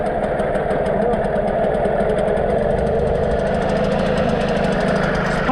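A small outboard motor with its lower unit removed runs steadily at a constant idle, a continuous mid-pitched mechanical drone with no talking.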